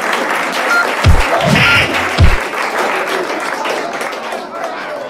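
A steady wash of crowd applause and murmuring in a boxing video game for Windows fills the space, with a couple of heavy thuds near the start.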